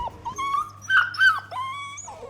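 A puppy whimpers and whines in high, wavering cries, a short string of plaintive yelps close by with a low hum underneath.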